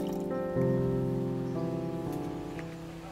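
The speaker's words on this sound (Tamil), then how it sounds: "கொஞ்சம் தண்ணி நம்ம வேணா ஆட் பண்ணிக்கலாம்." Water is poured into a mixture of dried dates, cardamom powder and coconut milk in a blender jar, giving a close, continuous liquid trickle and fill whose pitch rises as the jar fills.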